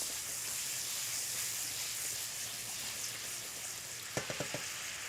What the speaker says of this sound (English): I'm just going to let those brown up a bit. They'll caramelize with that sugar.